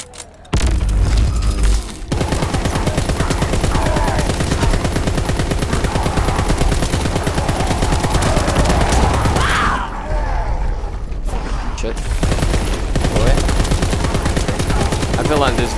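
Sustained, rapid Blyskawica light machine gun fire in COD WWII Zombies, a dense rattling stream of shots with booming impacts that runs almost continuously, pausing briefly a couple of times.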